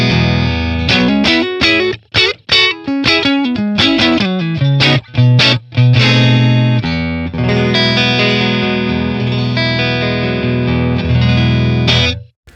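Clean electric guitar rings out through a Matchless Laurel Canyon amp capture on a clean fat cap setting, a few plucked chords and single notes, then sustained strummed chords ringing on, fairly loud and dry.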